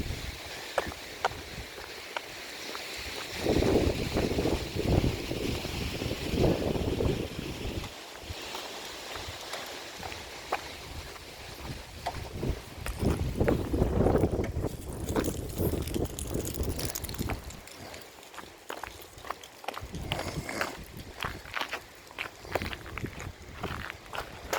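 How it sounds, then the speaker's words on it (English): Wind blowing outdoors on a hot, breezy day, coming in broad gusty surges that buffet the microphone, with faint footsteps and movement in the background. "It's windy."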